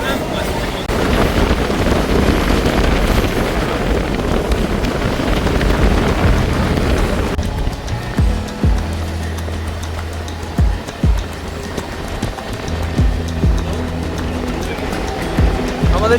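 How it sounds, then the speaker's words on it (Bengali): A Howrah–Digha local train pulls out and runs along, a broad windy rumble giving way to clattering wheel rhythm with scattered knocks and a low steady drone. "এই বলতে বলতেই ট্রেন আমাদের ছেড়ে দিল।"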